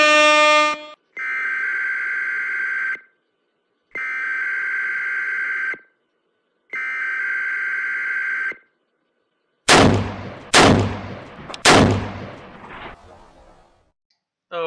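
Gunshot sound effect: three sharp, loud blasts in quick succession with fading tails, following three long steady buzzer-like tones separated by silence.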